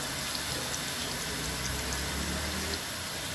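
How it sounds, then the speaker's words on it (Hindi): Garlic-ginger paste goes into a pan of frying onions, raising a steady, hissing sizzle that stays even and fairly close throughout. "अब हम लोग इसमें लहसुन अदरक की पेस्ट डालेंगे"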